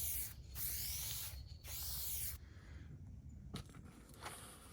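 Aerosol spray paint can misting paint onto front-end truck parts of a 2015 Silverado 2500HD, heard as two bursts of steady hiss up close with brief pauses, then quieter shuffling and handling noise.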